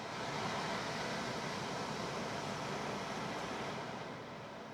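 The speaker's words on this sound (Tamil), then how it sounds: "ஃப்ரண்ட்டில் நம்ம உட்காந்து ட்ராவல் பண்ணுறப்போ ஆட்டோ கிளைமேட் கண்ட்ரோல் ஏசி தாங்க கொடுத்துருக்காங்க" Auto climate control air conditioning in a 2025 Citroen C3 Aircross SUV blows a steady, broadband rush of air inside the cabin, easing slightly toward the end, with no talk.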